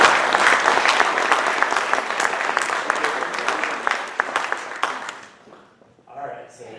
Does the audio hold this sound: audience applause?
yes